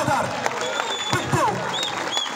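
A brief burst of crowd applause at a local cricket match after a stumping, with an excited commentator's voice speaking over the clapping throughout.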